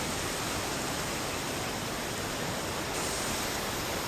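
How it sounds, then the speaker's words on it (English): Steady, loud roar of a waterfall close by, continuous broadband rushing and spray with no break, heard alone on a hot day at a fishing spot. "on a 29 degree day, I get plenty of spray from the waterfall"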